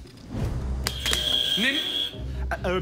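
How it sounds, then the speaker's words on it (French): A game show buzzer in a French quiz-style contest sounds once as a sustained electronic tone for about a second, with excited voices talking over it before and after. "Buzzer. Qui a buzzé?"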